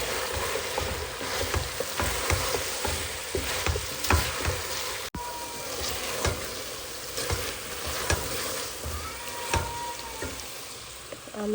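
Potatoes fry with fish in a hot pan, giving a steady close sizzle broken by stirring scrapes and occasional crackling pops, with no talking.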